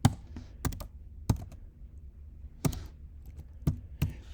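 Keystrokes on a computer keyboard while a calculus expression is entered, a few separate clicks and short bursts of taps with pauses between, close and fairly quiet.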